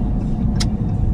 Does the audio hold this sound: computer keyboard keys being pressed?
no